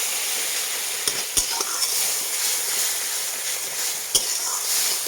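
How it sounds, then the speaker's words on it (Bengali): Poppy seed paste being stirred into tomato in a pan for a fish dish, a soft sizzle running throughout with a few sharp clinks of the spoon against the pan. "ভালোভাবে একটু নাড়াচাড়া করে নেব"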